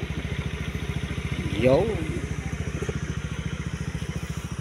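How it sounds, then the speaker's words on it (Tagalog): A motorcycle engine idles with a steady low, even pulsing throughout, close and continuous, while someone speaks briefly over it. "Yan yung motor ko. Service namin mga kalods."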